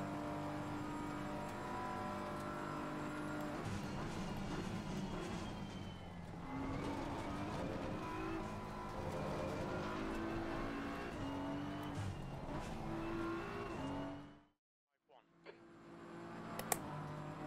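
A race car engine in a sim racing game drones and shifts pitch with gear changes, steady revs rising and dropping under a voice talking, cutting out briefly near the end before resuming.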